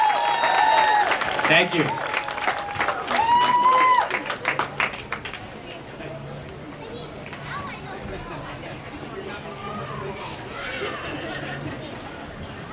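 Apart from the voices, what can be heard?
crowd applause for community day queen and king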